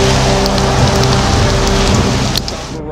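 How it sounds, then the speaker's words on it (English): Heavy rain pouring down in Baltimore, a loud, steady, dense hiss of rain hitting surfaces that stays constant throughout and eases slightly at the very end. "Rain coming down in buckets in Baltimore."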